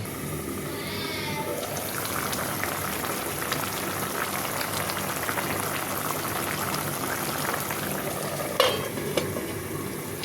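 A covered pot of mixed Bengali fish curry cooks on a stove, giving a steady, even sizzle and bubbling hiss throughout, with a brief clink near the end.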